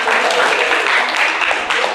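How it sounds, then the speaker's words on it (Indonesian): Crowd clapping at a Ramadan pre-iftar religious gathering in a mosque, a loud, close, even burst of many hands sustained for the whole brief moment. "beri tepuk tangan dulu dong"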